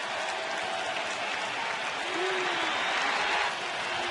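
Baseball crowd at a 2010 NLDS playoff game on its feet with a steady, loud roar of cheering and applause as the pitcher reaches two strikes.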